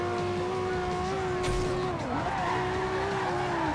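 A car drifting in a racing video game, its engine droning at a high, sustained pitch while the tires squeal and the revs dip briefly partway through. The sound is loud and continuous.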